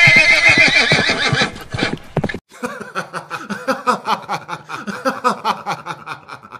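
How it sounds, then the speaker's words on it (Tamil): A horse gives a loud, close whinny, then gallops off into a crowd, its hoofbeats thudding in a steady, rhythmic clip-clop. "குதிரை கூட்டத்தினுள் சீறி பாய்ந்து ஓடுகிறது."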